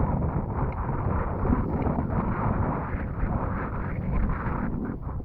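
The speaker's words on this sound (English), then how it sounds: "It's kind of windy" Steady wind buffets the microphone throughout, a continuous low rumbling roar with no pauses.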